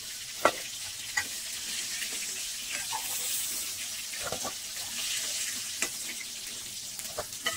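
River crab curry pieces fry in hot oil with a steady, soft sizzle, broken by occasional knocks and scrapes of a spoon stirring and lifting them from the pan.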